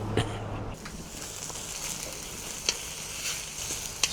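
Onions fry in a kadai set over a live fire, giving a soft, continuous sizzle with a few sharp crackles and pops, plus a low hum that fades early on.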